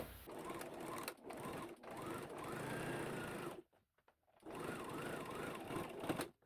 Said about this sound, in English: So I'm going to stitch 1/2 inch the two pieces together.